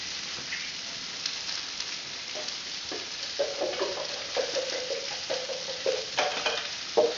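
A pan sauce with capers sizzles on an Aga stove while being stirred, a soft continuous crackling hiss with faint scraping strokes that grow a little busier toward the end, quiet and close with no talk.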